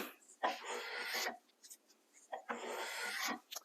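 A skewed blade shaves the wood of a ladderback chair's front leg in two long rasping strokes, each about a second, with light scrapes between, close and clear.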